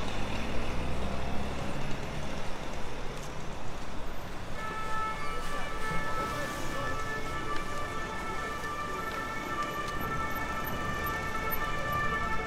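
Heavy car traffic fills the Champs-Élysées in Paris with a dense, continuous roar of engines. Partway through, a siren rises with steady tones above the flow.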